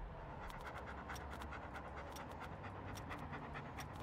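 A dog in the video game Hobo Tough Life pants quickly and steadily, with rhythmic breathy puffs throughout. The sound is faint and heard close against low background noise.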